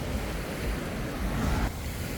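Ocean waves wash steadily onto a beach in Bali after a storm, a dense, continuous roar of surf with wind blowing across the microphone.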